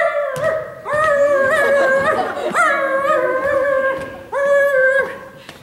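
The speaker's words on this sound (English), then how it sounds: "And barking like a dog." A dog howls and yips loudly and close up in several long, wavering cries separated by short breaks, with no talk.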